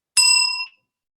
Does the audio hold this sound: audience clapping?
no